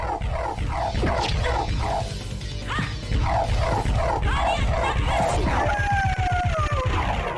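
Dog enemy in Castlevania: Symphony of the Night barking in a rapid repeated series over dense game music and effects, with crashing hits and rising tones late in the sequence.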